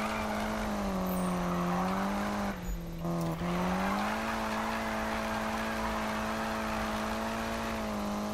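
A Mitsubishi Lancer Evo 9 drift build in Need for Speed 2015 holds a steady, loud engine drone with a whining pitch that dips briefly near the middle then rises and holds, as in a sustained drift.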